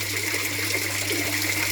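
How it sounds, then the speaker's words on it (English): A water siphon draining a garden bed gives a steady, continuous gushing rush of flowing water, close and even throughout with no talking. "That siphon's just started properly now."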